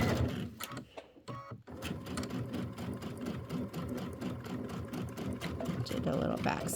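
A sewing machine stitching a quarter-inch quilt seam on a Christmas wall-hanging embellishment runs in a rapid, steady whirring chatter, briefly pausing before resuming close and continuous, with a voice speaking faintly at times.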